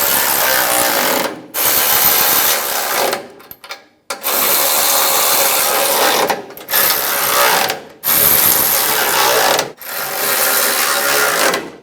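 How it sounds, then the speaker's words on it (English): A hand ratchet tightens bumper impact bar nuts on a 2007-2017 Ford Expedition, loud close rapid clicking in several long bursts separated by brief pauses as the nuts are snugged down. "With all of your nuts started, we're going to go ahead and snug them down."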